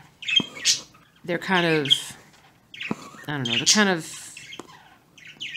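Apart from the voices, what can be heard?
pet birds chirping and squawking indoors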